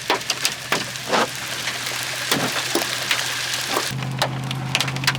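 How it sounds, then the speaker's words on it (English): Hail pelts the outside of a truck during a storm, sharp scattered ticks and taps at an irregular rhythm over a constant low hum from inside the cab. "It's just hailing."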